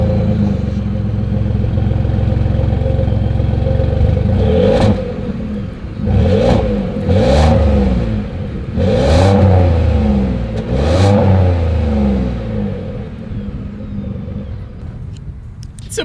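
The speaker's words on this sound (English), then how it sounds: "As always, here is that exhaust clip." A 2021 Ford F-150 pickup idles with a deep, loud exhaust rumble, then revs up several times in quick bursts, each rising and falling before it settles back to idle.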